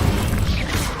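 A fire spell cast in the video game Hogwarts Legacy bursts out as a loud, dense whoosh and roar with a heavy low rumble, filling the whole second without a break.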